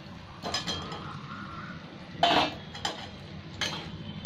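Potatoes and pointed gourd frying in a pan, with a spatula clinking and scraping against the metal in a few sharp, scattered strokes over a soft background.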